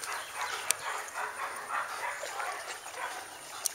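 Several dogs of assorted breeds bark and yip during an off-leash outing, a busy overlapping chorus at moderate distance with a couple of sharp clicks.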